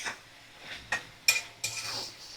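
Sugar being stirred into cooked spinach in a pan, with a few close scrapes and clinks of the spoon against the pan over a faint sizzle, quiet and brief with no talking.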